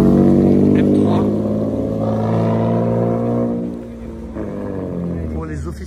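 A BMW M3 idles nearby outdoors in a city square, a deep rumbling engine that dips slightly partway through, with people talking over it.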